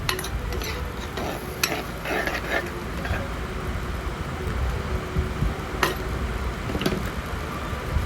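Karuvaadu thokku, a dried fish relish, simmering in a pan with added water while a spoon stirs it, a soft steady bubbling hiss with occasional scrapes and clinks against the pan, close and quiet.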